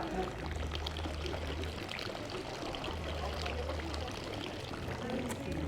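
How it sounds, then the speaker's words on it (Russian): Hot spring fountain water, from an ancient Roman-era spring, pours steadily into a glass in a continuous trickling stream over a low background hum. "Эту воду можно пить, но нужно использовать стакан, потому что так просто обожжешься."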